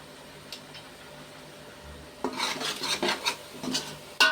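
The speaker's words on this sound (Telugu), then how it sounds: "మూత పెట్టేయండి ఒకసారి" Metal lid set onto a cooking pot, with clattering and scraping of metal cookware in quick clustered clinks, close and moderately loud, ending on a sharper clank.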